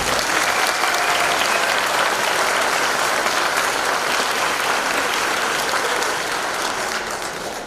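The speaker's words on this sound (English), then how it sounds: "can we just give one more round of applause for these students?" Loud, dense applause from a crowd honouring middle school band students after a performance, continuous and full for several seconds before easing slightly at the end.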